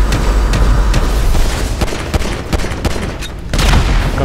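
Rapid bursts of gunfire in GTA 5 crack out loud and close, a dense volley of shots with sharp individual reports and booms, no one talking.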